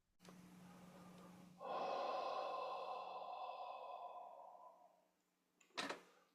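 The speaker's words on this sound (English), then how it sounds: "Breathing out." A slow, steady exhale during guided meditation, breathy and sustained for about three seconds before fading out, followed by a short, sharper breath sound.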